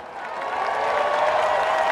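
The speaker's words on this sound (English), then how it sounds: "Give them a round of applause." A crowd at a Denver year-in-review event applauds and cheers for city and county staff. A dense wash of clapping and crowd noise swells slightly and holds steady for two seconds, with a faint sustained tone running underneath.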